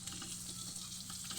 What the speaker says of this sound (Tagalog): Yan, dyan na po kami magigisa sa gilid ng bawang at sibuyas.